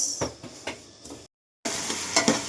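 Rava being stirred and roasted in a pan for kesari bath, a few soft scraping strokes of a spoon with a faint sizzle, close by, broken by a brief silence.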